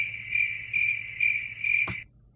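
Crickets chirp in a steady, high pulsing trill, sounding in four or five repeated bursts before stopping abruptly, with no voices present.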